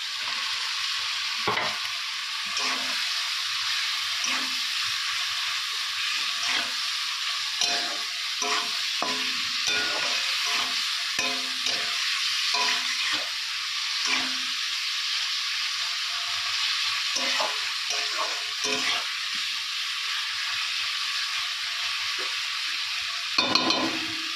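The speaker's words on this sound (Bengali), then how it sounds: "আর এখানে চিংড়ি মাছগুলো আছে, দিয়ে দেবো।" Prawns frying in a pan with spices and two tomatoes make a steady close sizzle throughout, with repeated clinks and scrapes of stirring scattered across it and no talk.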